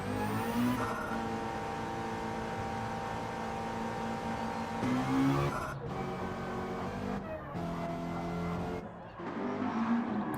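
A McLaren GT race car engine in a sim racing game revs hard through repeated gear shifts, rising then dropping in pitch, with brief throttle cuts and faint tyre noise, loud and close.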